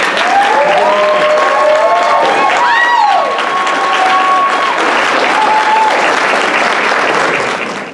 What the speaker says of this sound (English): So please give yourself, give Dr. LaMont Green a warm round of applause.